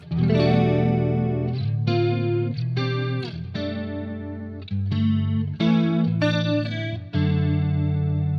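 Guitar chords and notes ring out through an Arion stereo chorus pedal, lush and shimmering, thick and wide, played in a slow rhythmic pattern.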